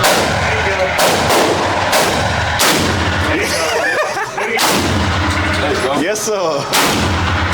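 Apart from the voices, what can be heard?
AR-12 shotgun firing at a shooting range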